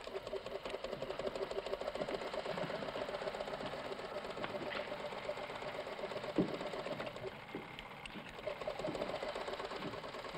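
Sewing machine running steadily in a prison tailor shop, a continuous close mechanical whir and rattle that lasts the whole stretch without pause, with no talking.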